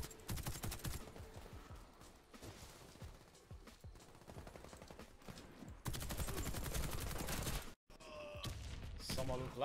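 Rapid bursts of gunfire in a video game crackle repeatedly, some in fast automatic strings, with a loud sustained stretch partway through and brief voices mixed in.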